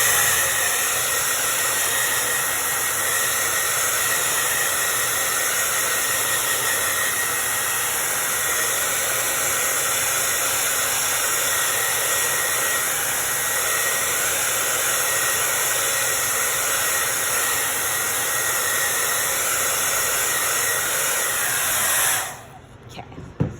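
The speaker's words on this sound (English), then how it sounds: "I'm gonna blow it dry." A hair dryer blows steadily on fresh paint on a small truck, a loud, close, constant whooshing roar that runs unbroken for over twenty seconds before abruptly switching off.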